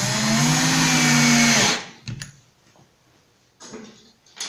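A power drill drives a screw into a melamine board while a nightstand is assembled, a loud steady whirring burst lasting under two seconds, then a quiet pause with a few faint clicks and handling knocks.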